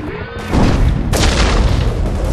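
Loud high-explosive charge detonating in the game Enemy Territory: Quake Wars, a heavy boom that breaks in suddenly and is followed by a second surge of roaring blast noise that carries to the end.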